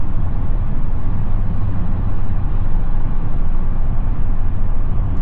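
Steady low road rumble inside the cabin of a 2024 Chevy Silverado 3500 with the L8T gas engine cruising at highway speed, a constant broadband drone of tire and wind noise with no talking.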